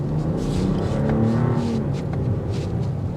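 A 2024 BMW X7 xDrive40i SUV accelerates from inside the cabin, its engine note a steady, smooth low hum with a rising whir and no voices over it.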